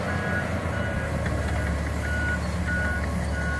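A New Holland W190B wheel loader works an earthmoving site digging out a containment box, its steady diesel rumble running under repeated reversing beeps that come in regular short bursts.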